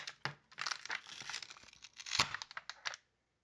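Adhesive tape peeled from a Microsoft Surface Pro 3/4 battery gives a close, loud crinkling tear in two or three ragged bursts over about three seconds, followed by sudden silence.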